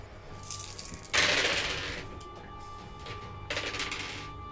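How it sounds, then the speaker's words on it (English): A handful of dice are rolled during a Dungeons & Dragons game: two separate bursts of close, clattering rattles, each tailing off quickly over a quiet room. "It's a lot of dice."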